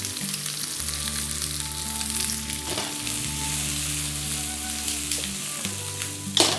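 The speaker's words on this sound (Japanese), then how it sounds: "さあ軽く炒めていきます。" Scallops, mussels and other chowder ingredients lightly sautéing in a pan, a steady close sizzle running throughout with a soft low hum of background music beneath it.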